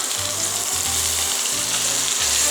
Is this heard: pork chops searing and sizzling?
yes